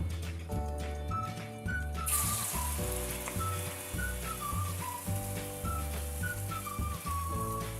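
Soya chunk pakoras frying in oil give a steady, close sizzle that begins about two seconds in and continues under louder background music carrying a whistled melody.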